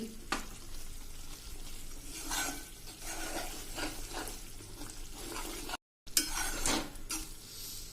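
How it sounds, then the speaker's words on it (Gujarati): Semolina roasting in ghee on a medium flame for rava sheera, with a steady soft sizzle under repeated spoon stirring and scraping against the pan, close and continuous. "તમે આ રીતે મીડિયમ ગેસે શેકવાનું"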